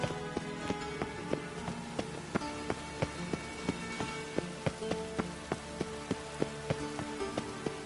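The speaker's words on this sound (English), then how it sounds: "Rain again." Rain falls steadily in The Witcher 3: Wild Hunt, a constant patter overlaid with regular sharp taps repeating about twice a second throughout.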